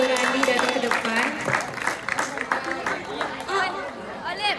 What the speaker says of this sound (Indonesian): Berikan tepuk tangan kepada temannya yang sudah berani datang ke depan.